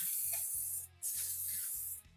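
Aerosol rust-protection coating sprayed inside a Volkswagen Bug body during restoration, two close, loud hissing bursts with a short pause between them, no talking.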